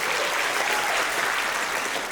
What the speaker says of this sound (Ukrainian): давайте поплескаємо Андрію.